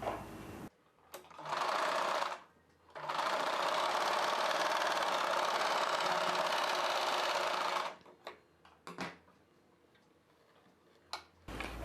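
A sewing machine stitches blouse front darts in bursts, one long run of rapid whirring stitches between shorter spurts and a few clicks, close and clear with quiet pauses between.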